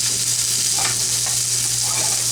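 Reuben-style burger patty frying in a pan, a steady close hiss of sizzling fat with faint stirring scrapes, loud and continuous with no voices.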